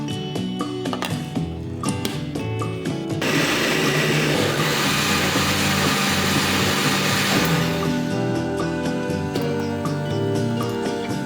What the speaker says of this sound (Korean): 적당히 썬 데친 토마토와 양파 반 개, 마늘 2알을 넣고 같이 갈아주세요.